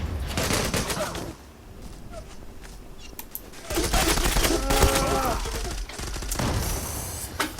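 Gunfire in the online shooter Zula, with bursts of shots over a busy game soundscape, a quieter stretch in the middle, then louder firing toward the end.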